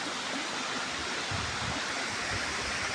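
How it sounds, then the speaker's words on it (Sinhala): Water from a hidden waterfall in Sri Lanka pours over rock in a steady, dense roar, close and continuous with no break or voices. "ඔයාලට පේනවා ඇති වතුර වලින් ඇවිල්ලා ඔන්න ගලෙන් පල්ලහැට කඩා හැලෙන ආකාරය"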